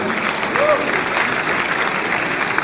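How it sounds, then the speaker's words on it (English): An audience at a Kumasi royal centenary celebration applauds performers from the National Culture centre, continuous broad clapping, loud and even, with crowd voices and a brief rising vocal whoop near the start. "Please, a round of applause for them."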